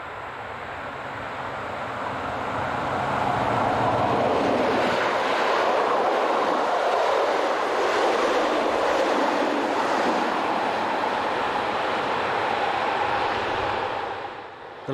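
Rhaetian Railway locomotive 619 sweeps through a valley on the Davos line, a broad rushing roar that swells over a few seconds, holds steady, then eases away at the end.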